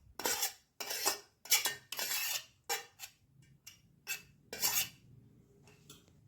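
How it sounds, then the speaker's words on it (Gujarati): A spoon scrapes and clinks in a bowl as grated cheese is mixed into a corn, spinach and coriander stuffing for parotha, making about a dozen quick bursts that taper off toward the end. "ફરીથી તેને મિક્સ કરી લઈશું।"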